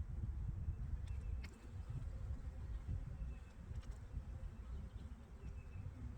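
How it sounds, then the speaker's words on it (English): A low, steady hum of many worker bees buzzing close by during a queen release, continuous and fairly quiet, with no talking. "So we got a bunch of worker bees on it."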